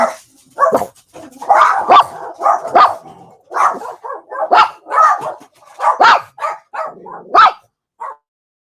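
Three household dogs barking repeatedly in loud, close bursts with short yips and whimpers mixed in, filling the whole stretch without a break.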